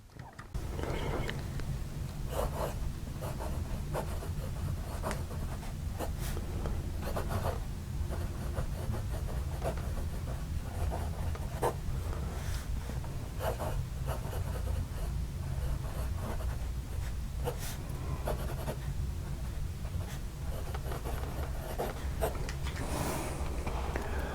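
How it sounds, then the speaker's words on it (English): Stipula Passaporto fountain pen nib writing on paper with Noodler's ink, a faint, smooth scratching that runs steadily with soft intermittent strokes over low background hum. "Hopefully you can't hear that nib on paper because it is very smooth."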